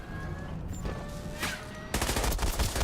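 Gunfire in Batman Arkham Origins multiplayer starts abruptly about two-thirds of the way in as a dense, loud burst of shots. Sniper fire is aimed at the player.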